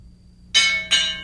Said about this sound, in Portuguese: o sino da igreja tocado por Timotinho anunciava a vitória